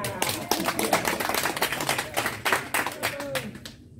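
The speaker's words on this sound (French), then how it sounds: "Applaudissez." Audience clapping at a community meeting in Sotouboua, a steady burst of many hands filling the room with dense, crackling claps that continue throughout with a few voices mixed in.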